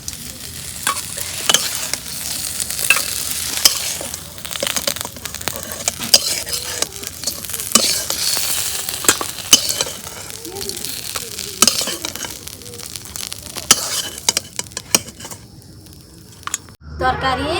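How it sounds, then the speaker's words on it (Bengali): Kalbaush fish sizzles and spatters in hot oil in a pan, a steady loud crackle with frequent stirring scrapes over most of the stretch, ending in a brief quieter moment. "মাছ ভাজা হচ্ছে"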